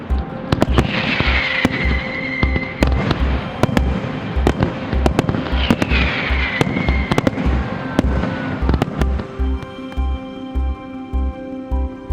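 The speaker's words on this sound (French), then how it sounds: "son traditionnel feu d'artifice" A traditional fireworks display on Bastille Day, loud and sustained, with rapid rhythmic booms and crackles, whistling rockets rising through the barrage, and dense popping throughout.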